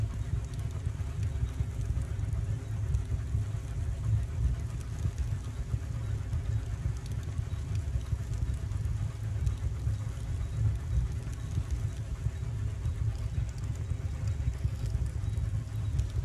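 A steam locomotive runs along the line in the Railroads Online video game, a steady low mechanical rumble and hiss continuing evenly at moderate level with no voices.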